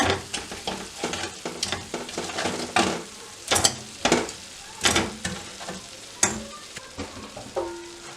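A spoon mixes chicken wings in a pan as they are prepared for crispy frying, giving repeated scraping and clattering strokes in an irregular rhythm over a soft sizzle, close up, with no one speaking.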